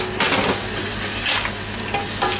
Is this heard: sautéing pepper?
yes